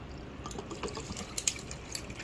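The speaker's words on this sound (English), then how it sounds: "I pour a pretty good amount." Liquid is poured into a glass while making a michelada, a soft, close trickle and splash with a few faint drips over a couple of seconds.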